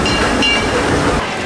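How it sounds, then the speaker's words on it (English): A train at Disneyland rolls past close by, a loud steady rumble with a clattering rhythm and a hiss that carries through to the end, with no talking over it. "Ooh, the train is gonna come by."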